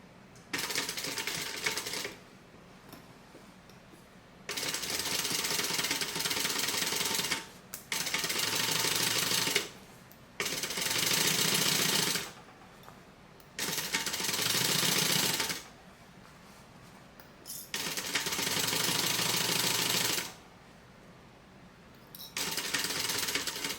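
A sewing machine stitches a crossbody bag in several distinct runs of fast, steady mechanical chatter, each lasting a few seconds and separated by short pauses, fairly close and with no talking.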